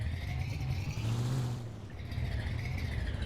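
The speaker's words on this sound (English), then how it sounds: "Take her for a little maiden voyage here with the new V8 power in the middle of the night." A truck with a freshly swapped-in V8 engine driving at night in the rain in the game Junkyard Truck, a deep steady engine rumble that rises and dips in pitch, with road noise, close and continuous.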